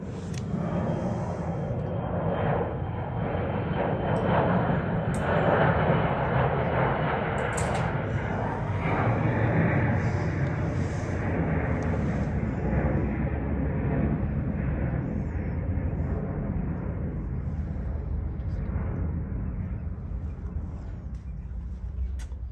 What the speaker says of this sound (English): great timing for a jet